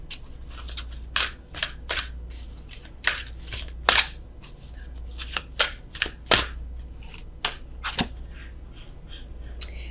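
A deck of tarot cards is shuffled and a card drawn, with a run of sharp close flicks and riffling snaps at an irregular pace over a low steady hum, without speech.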